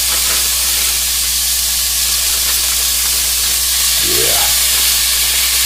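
One and a half pounds of bite-sized sliced beef sizzles in a hot pan for beef stroganoff, giving a loud, steady frying hiss with a brief stirring scrape near the end.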